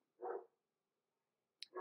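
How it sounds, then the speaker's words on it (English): A dog barks once, faint and distant in the background, followed by a brief, indistinct sound near the end. "Can you hear him barking back there?"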